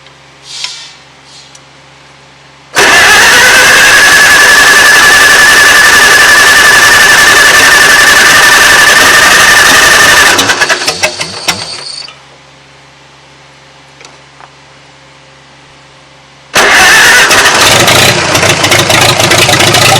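A 1940 Farmall H tractor, with a sticking carburetor float and likely flooded, fires up after years unused: a loud, steady engine roar runs for several seconds, dies away into quiet, then catches and roars again.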